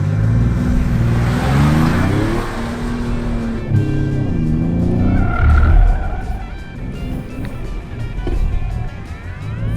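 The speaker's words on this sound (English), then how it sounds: "this red 3-liter twin turbo Explorer ST, and sport mode, traction control disabled" Red Ford Explorer ST with a 3-liter twin turbo engine in sport mode with traction control off, driven hard on an autocross course: the engine revs rise and fall through gear changes, loud and close, with some tire noise and no talking.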